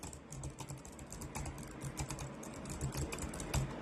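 Keys on a Dell wireless keyboard are pressed in a quick, steady run of soft clicky taps, close up and continuous, with no talking over them.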